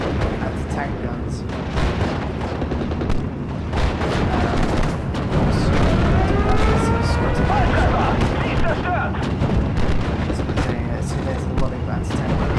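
Tank guns fire in a Steel Division: Normandy 44 battle, with repeated heavy booms and rumbling artillery-like blasts scattered through continuous game din, while someone talks over much of it.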